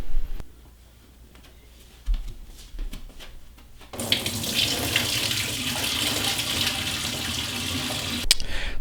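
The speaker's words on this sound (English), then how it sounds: "put it on cold water, and we'll just get that excess salt that was in our brine just washed off" Cold water runs from a kitchen tap over brined cucumbers being rinsed for dill pickles. A few quiet knocks come first, then a loud, steady splashing rush begins midway and continues to the end, with no talking.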